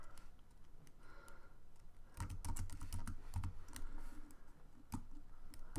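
Someone types CSS code on a computer keyboard, quiet irregular key clicks that build into a denser flurry midway, close but faint.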